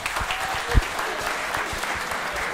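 Audience applause at a stand-up comedy roast show in Bandung, a steady dense clatter of many hands clapping throughout, moderately loud and fairly close, with no speech over it.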